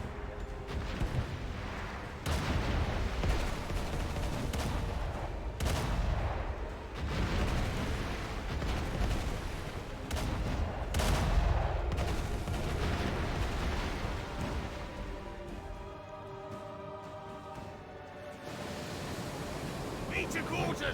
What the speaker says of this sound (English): Man the cannons!